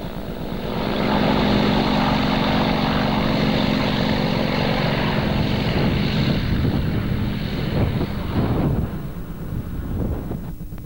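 A Yak-52 propeller aircraft engine drones loud and steady during aerobatic flight, a continuous close roar with buffeting wind noise that eases slightly near the end, no voices.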